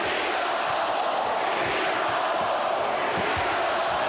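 A crowd of about 19,000 at a 1993 NBA playoff game fills the arena with a steady, dense chant of "Beat the Bulls", a continuous roar with no single voices standing out.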